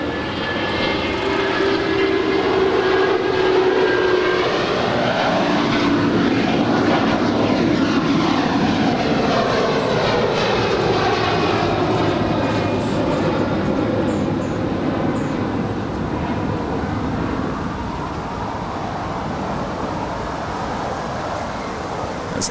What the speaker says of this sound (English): It's Air Canada flight 774 heading to Montreal in an A330-300